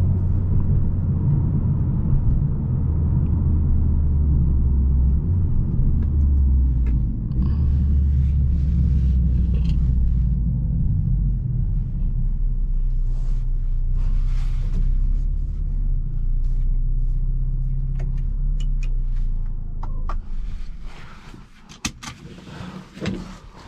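A 2022 Mercedes CLA 45 AMG coupe being driven, heard from inside as a loud low engine and road rumble that holds steady, then eases off and fades toward the end with a few faint clicks and knocks.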